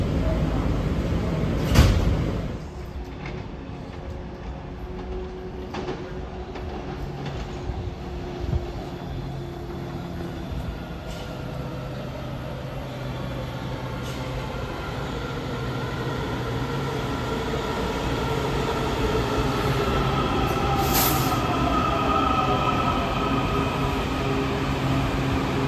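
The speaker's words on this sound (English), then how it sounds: "we are on a Silver Line train originating at New Carrollton instead of Largo" A DC Metro Silver Line train running from New Carrollton rumbles steadily from inside the car, with a thud and door sounds early on, then continuous wheel and motor noise slowly building.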